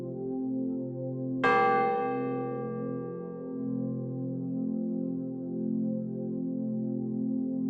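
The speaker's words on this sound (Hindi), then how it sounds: "घंटा खुद ब खुद धीरे से बजता है" A small bell hanging in a bare wooden hut is struck once and rings softly, its clear tone slowly fading over a low sustained drone.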